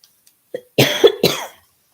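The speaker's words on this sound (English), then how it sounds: "I'm coughing." A few close, harsh coughs in quick succession, loud and raspy, with silence around them.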